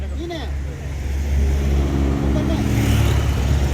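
A car passes along a road near a funeral gathering in Siguntu', Makale Utara, its steady engine rumble rising and holding loud throughout, with people talking in the background.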